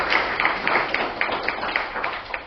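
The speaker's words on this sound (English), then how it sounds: "Let's give him a round of applause." Indoor audience at a summer camp parent meeting clapping for a camp director, a soft, scattered round of applause at moderate distance.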